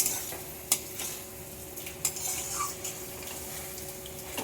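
Soybean chunks and mutton stir-fried in a pan, with soft scraping stirs and occasional spatula knocks over a low sizzle, close and fairly quiet.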